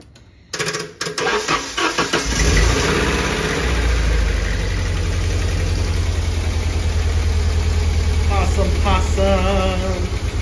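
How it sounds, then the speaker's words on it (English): 1991 Nissan 240SX engine cranking with a few stuttering catches, then firing up and running loud and close with an uneven, misfiring idle. Voices talk briefly near the end. "That's misfiring. It's misfiring like crazy."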